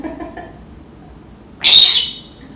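An African grey parrot gives one loud, shrill whistling screech close by, after a stretch of faint low murmuring.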